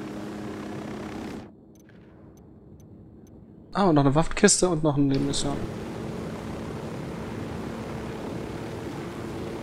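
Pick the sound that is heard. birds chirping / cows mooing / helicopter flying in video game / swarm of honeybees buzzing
helicopter flying in video game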